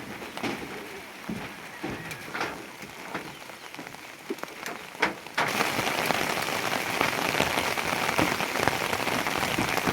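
Rain patters steadily on a surface, then abruptly grows into a heavier, denser downpour partway through.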